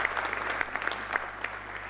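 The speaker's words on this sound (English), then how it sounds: "We'll give him a round of applause" An audience gives an author a short, moderate round of applause in a conference room. The clapping is fairly even and steady over a low background hum.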